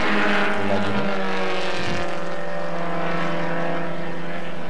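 A vintage production-class sports car, an Austin-Healey among them, races past on a track during a 1980 national championship race: loud, close engine roar with falling pitch as cars brake and pass, continuous throughout.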